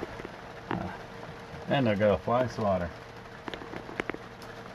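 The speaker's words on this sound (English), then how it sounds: "It's raining." Rain patters steadily on a boat on a cove inlet while someone talks over it in the foreground.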